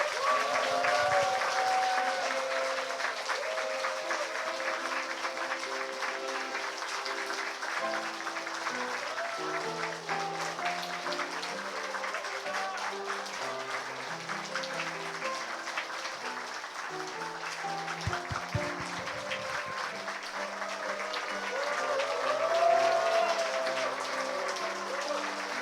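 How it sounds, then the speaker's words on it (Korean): Wedding guests applaud the groom's entrance with sustained clapping throughout, while music plays beneath and swells slightly near the end. "여러분들께서 열렬한 박수로 맞아주시기 바랍니다"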